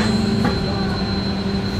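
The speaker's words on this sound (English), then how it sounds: "We got on a train." A Paris train rolls along the rails with a steady rumble and a high metallic squeal, loud and close, as if heard from inside a carriage.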